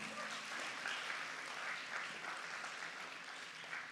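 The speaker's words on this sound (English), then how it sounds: "A round of applause to him." An audience applauds a moderator at an evening event, a continuous, fairly faint wash of many hands clapping throughout, with no voices over it.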